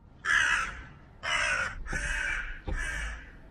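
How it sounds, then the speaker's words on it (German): Crow cawing nearby in four harsh, separate calls spaced about a second apart, clear and alone. "Blöde Krähe."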